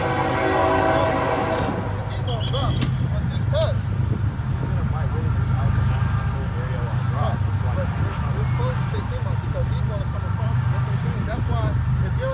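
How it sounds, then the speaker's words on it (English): A train passes somewhere near US Route 1, its horn sounding with steady tonal blasts over a continuous low rumble that persists throughout, while people talk over it. "We must be near US 1 if there's a train."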